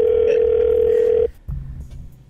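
A telephone call tone sounds while dialing out to a radio station call-in line: a loud, steady single-pitch tone that runs for about a second and cuts off abruptly, then gives way to quieter line noise.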